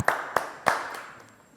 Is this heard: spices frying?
no